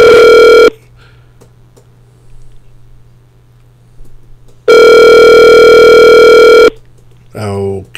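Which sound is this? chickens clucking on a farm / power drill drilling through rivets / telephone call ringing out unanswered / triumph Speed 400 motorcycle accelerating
telephone call ringing out unanswered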